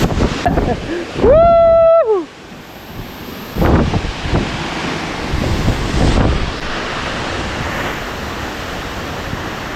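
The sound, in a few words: waterfall rushing water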